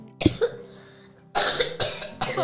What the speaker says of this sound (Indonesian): Ntar saya batuk.